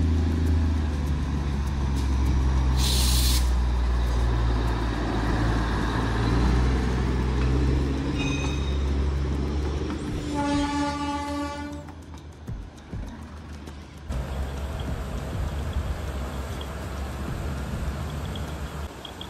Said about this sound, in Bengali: টয় ট্রেন আসছে দেখো।